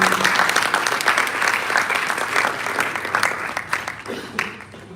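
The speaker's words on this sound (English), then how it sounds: "Ladies and gentlemen, let's give Sim another round of applause." Audience applause at a bank's succession planning breakfast event, brisk clapping from a roomful of guests that gradually thins and tapers off over about five seconds.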